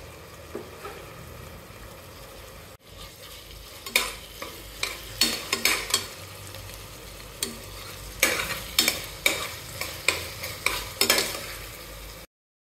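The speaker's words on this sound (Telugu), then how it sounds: "మటన్ పీసెస్ వేసుకున్నాం. మంచిగా తిప్పుకోవాలి." Mutton pieces stirred and fried in oil in a pan for a no-masala curry with onions, chillies and ginger-garlic paste: a steady close sizzle broken by repeated louder scraping bursts as the spoon turns the meat, with no talking.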